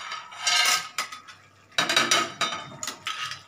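Fried lentil dumplings (bori) tipped into a pot of soft boiled bottle gourd in milk, giving a few close, bright clattering bursts of metal and utensil contact separated by short pauses, with no talking.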